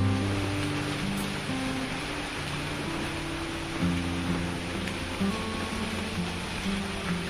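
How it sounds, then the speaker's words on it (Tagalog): Steady rain falls throughout, a constant dense hiss with a low rumbling undertone, no voices. "Umuulan pa naman."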